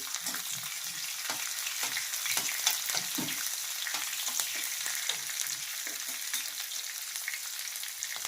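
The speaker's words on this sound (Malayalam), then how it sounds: "പച്ചമുളക് വട്ടത്തിൽ അരിഞ്ഞത് ചേർത്ത് കൊടുക്കുന്നു" Sliced green chilies and long-cut ginger frying in hot oil for a broken samba wheat uppumavu, with a steady close sizzle and occasional stirring scrapes, no voices.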